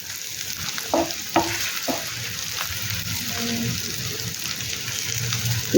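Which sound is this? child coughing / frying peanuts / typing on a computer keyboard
frying peanuts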